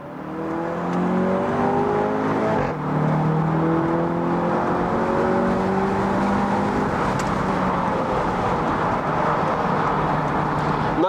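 An Audi TT Roadster convertible engine revs hard and holds a loud, steady roar, rising in pitch with a brief dip partway through.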